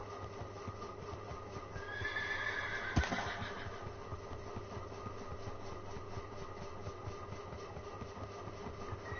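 A horse in a racing video game gives a clear whinny around the two-second mark, set against a steady low engine-like hum and faint hoof clatter, with no talking.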